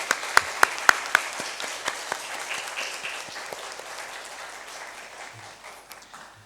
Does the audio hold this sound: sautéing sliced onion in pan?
no